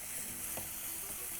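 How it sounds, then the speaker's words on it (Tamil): Onions and tomatoes sautéing in a pan for a curry, a steady close sizzle and frying hiss with a faint stir partway through. "இந்த வெங்காயமும் தக்காளியும் நல்லா தொக்கு மாதிரி வதங்கிடுச்சு"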